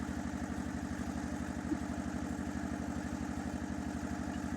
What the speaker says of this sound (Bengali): আরে ওই যে লঞ্চ যেতেছে